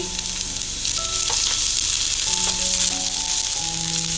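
Chopped garlic, ginger and green chili sizzle steadily in hot oil for a spring roll filling, a dense continuous frying hiss with faint stirring clinks throughout and no talk.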